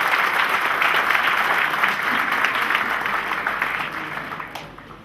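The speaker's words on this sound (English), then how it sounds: "Please give them a huge round of applause." An audience at a stage event claps in dense, sustained applause that starts loud and gradually fades near the end.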